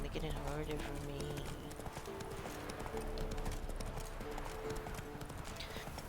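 Roach the horse gallops in The Witcher 3, a steady rapid clip-clop of hooves under game music and a player's voice, close and continuous throughout.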